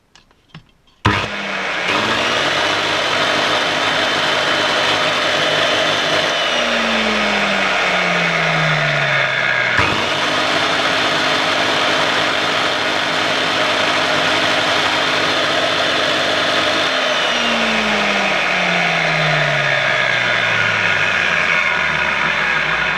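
A DeWalt angle grinder, just fitted with new motor brushes, starts and runs steadily at high speed with a loud, continuous whine. Its pitch sags and recovers twice as load comes on and eases off, with no talk over it.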